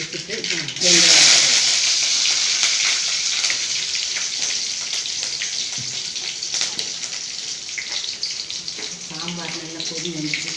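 Mustard seeds crackle and spit in hot oil in a home kitchen with a dense, sizzling patter that slowly eases, while a person talks over it in Tamil.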